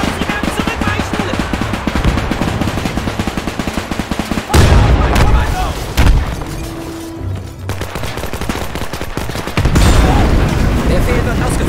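Loud, continuous machine-gun fire and heavy artillery booms rumble through a World War II battle in Men of War II, dense and close, with voices calling out over the din.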